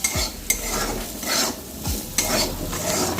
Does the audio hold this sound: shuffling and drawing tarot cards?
no